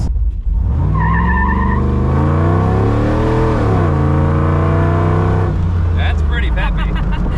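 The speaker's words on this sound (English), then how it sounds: "I think that's like the first time that she spun the tires." An LS-swapped Jeep Wrangler's V8 roars up through the revs with a long, rising engine drone while its tires spin and squeal, loud and close, easing off near the end.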